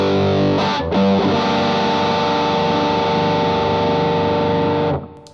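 A JHS At Andy Timmons signature distortion pedal on its 100-watt headroom setting gives a sustained, saturated electric guitar chord that rings loud and steady for about four seconds, then cuts off cleanly.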